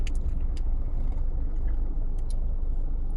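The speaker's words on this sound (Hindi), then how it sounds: "उधर से तो गाड़ी आ रही है।" A car passes along the road with a steady, fairly loud engine rumble, joined by a few brief higher clicks or squeaks, and no voices.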